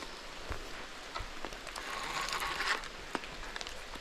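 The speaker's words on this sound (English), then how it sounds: "It's raining pretty good right now." Rain falling around a carp fishing spot, a soft steady patter with scattered louder drops striking nearby surfaces, faint and close, with no voices.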